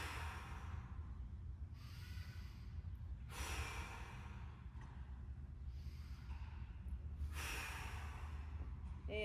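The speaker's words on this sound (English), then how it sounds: "Here we go, 3 big breaths." Deep breaths during a diaphragm-focused hip and hamstring mobility exercise come as three long, close exhalations, each a breathy rush of air separated by quieter pauses, with no talking.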